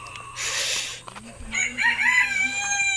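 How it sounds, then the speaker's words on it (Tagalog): A rooster crows on a farm among newly planted papaya, one long harmonic cock-a-doodle-doo rising and falling at close range, preceded by a hissy rustle and faint clucking, with a voice briefly underneath. "Laking manok oh."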